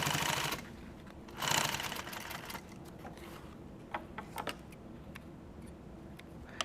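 A sewing machine stitching nylon tactical gear runs in two short, close bursts, followed by quieter scattered clicks and ticks of the mechanism and thread handling.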